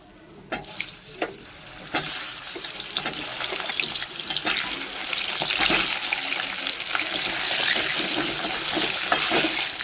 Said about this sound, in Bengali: কড়ার তেল গরম হয়ে গেছে আমি সামান্য একটু নুন দিয়ে দিচ্ছি যাতে আলুটা ভাজার সময় গায়ে ছিটে না আসে